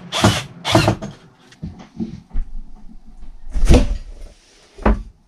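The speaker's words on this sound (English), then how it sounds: "sliding it into its mounting channel here, and I'm just placing four screws into it so it fits into position" A sliding shower door is worked into its mounting channel and fixed with four screws, giving a string of loud, close knocks, bumps and scraping clatters with brief pauses between them.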